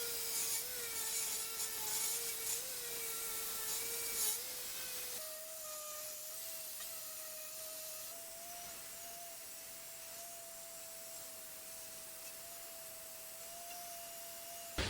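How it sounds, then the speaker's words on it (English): A power sander working over a 2011 Ram 2500 Mega Cab truck bumper, a steady whirring drone with a constant tonal whine that shifts pitch midway, moderately loud and continuous without speech. "so we got the bumper all sanded down"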